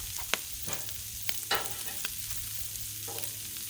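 Shrimp sizzle quietly on a Blackstone griddle, a low steady frying hiss broken by several sharp scrapes and clinks of a spatula stirring and turning them.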